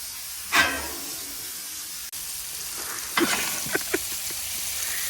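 Burgers sizzle in a hot pan, a steady hiss of frying broken by a sharp burst early on and a few quick scrapes and taps as the patties are flipped.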